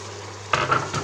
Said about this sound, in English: And now you give it all a good stir until the cabbage is kind of wilted down a little bit.